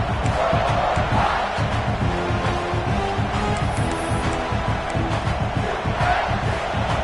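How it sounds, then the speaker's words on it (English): Home crowd at a South Carolina college football game roars in a steady, dense wall of cheering and shouting that stays loud and continuous throughout. "this home crowd is fired up and ready to make a difference today"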